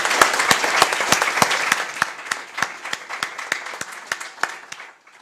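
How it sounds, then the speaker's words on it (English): A hall audience applauding a minister at a policy dialogue event: dense clapping that gradually thins into scattered individual claps before dying away. "Please join me in applauding the Minister for his efforts."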